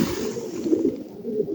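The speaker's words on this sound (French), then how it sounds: "Alors là, on entend les pigeons. Il y a énormément de pigeons là-dessous." Pigeons coo continuously in a low, throaty, rolling murmur under a canal in Marseille, with several birds close by and layered together in a steady, echoing chorus.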